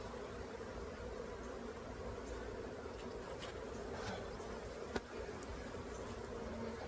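A swarm of bees hums around an open beehive being treated for small hive beetles, a thick constant buzz up close with a single sharp click partway through.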